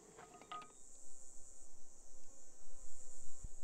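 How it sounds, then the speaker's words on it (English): Flies buzz around a forest campsite, a wavering drone that rises and falls as insects pass close by, alongside a steady high insect whine. "the flies are a bit excessive"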